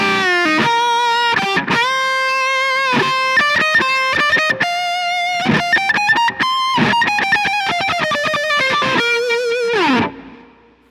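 Distorted electric guitar through a Line 6 Helix multi-effects processor plays a melodic phrase of sustained notes and quick runs, heavily processed with chorus-like effects and ambience, ending abruptly.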